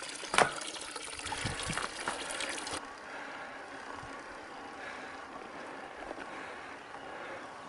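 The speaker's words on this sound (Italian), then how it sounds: "Guarda che bella fontanella di acqua fresca." Fresh water trickles and splashes from a small fountain on a mountain trail in Val Salatis, close and steady, starting with a few louder splashes and then settling into a softer continuous flow.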